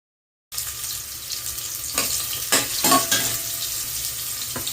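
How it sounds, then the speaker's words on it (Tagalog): Onion, garlic, tomato and ginger sauté in a hot pan with a steady broadband sizzle after a short silent start, broken by a few sharper scraping stirs midway. "gigisahin muna po yung lahat ng ating mga panggisa, sibuyas, bawang, kamatis, bawang at luya"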